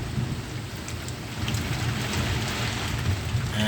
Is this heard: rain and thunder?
yes